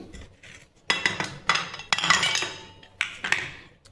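Ice cubes dropped into a glass of cold milk drink, giving several separate clinks and knocks against the glass, each with a short ringing decay, close and fairly quiet with no talking.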